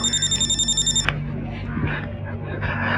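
A telephone rings in quick repeated electronic trills, loud and close, then cuts off abruptly and is followed by rustling and faint movement.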